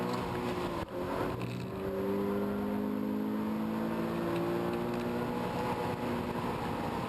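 A 2013 Subaru BRZ flat out on a race track, its engine droning loud and steady with rising harmonic tones as it pulls hard onto a straight, a brief thump near the start.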